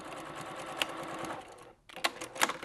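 A sewing machine runs steadily while stitching a hot iron travel cover, with a short pause near the end and brief clicks as it backstitches a few times, close and clear with no talk.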